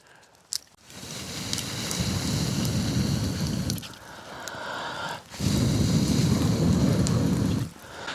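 Wind blows at a winter hammock camp, with rushing gusts buffeting close to the microphone that rise, ease off and surge again. A brief knock comes near the start.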